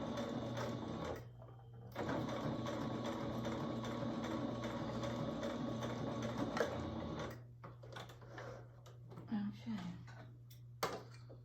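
A sewing machine backstitches over the stitching on a handkerchief, a steady mechanical whir that runs for several seconds, stops briefly, then resumes before giving way to quieter handling sounds and intermittent clicks.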